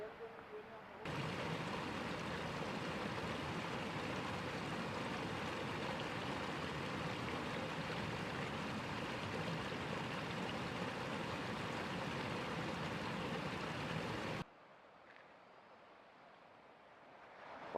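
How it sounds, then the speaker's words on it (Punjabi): Steady rushing stream water near Kareri Lake fills most of the clip, a broad continuous roar that cuts off abruptly near the end, leaving a quieter background. "ਪਾਣੀ ਇੱਥੇ ਆ ਕੇ ਕਿੰਨਾ ਸਾਊਂਡ ਕਰਦਾ ਤੇ ਵਧੀਆ ਲੱਗ ਰਿਹਾ"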